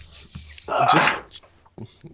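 A pet dog named Gannon, heard close indoors as a short snorting, sneeze-like huff followed by a small sniff, all within a couple of seconds.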